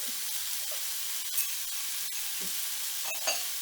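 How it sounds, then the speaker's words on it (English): Chopped onions sweat with a pinch of salt in a pan over medium heat, giving a soft, steady sizzle with faint stirring scrapes and a few light clicks. "I like to add a little bit of salt to sweat the onions out"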